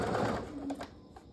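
A sewing machine back stitches in a short run of close, quiet motor whirring that fades out, followed by a faint click.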